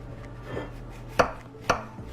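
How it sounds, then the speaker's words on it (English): A knife cuts through a slice of still-hot cake, making two crisp taps against the board about half a second apart over a quiet background. "we are most definitely ready to cut a slice of our cake"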